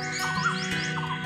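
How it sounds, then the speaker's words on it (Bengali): Birds chirp and whistle beside a pond in Kolkata's Eden Gardens, in short repeated rising notes over a steady low hum, the calls quick and fairly close. "পাখিদের আওয়াজ কিচিরমিচির"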